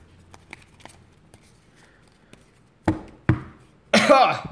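A few faint ticks and rustles, then three loud, close coughs in quick succession near the end, the last one harsh and sustained.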